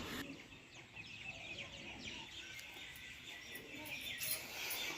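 Many birds chirp and call at once at dusk as they settle to roost, with chicken clucks mixed in, a busy chorus of overlapping calls at moderate distance.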